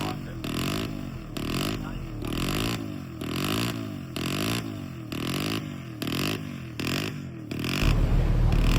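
A 1963 vintage Honda motorcycle, number 263, races at El Mirage dry lake land speed racing, its engine droning steadily and loud with rhythmic pulsing surges, swelling louder near the end.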